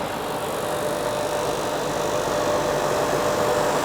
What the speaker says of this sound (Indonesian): Kemudian tekan P1 kembali, maka H1 menjadi on dan motor running forward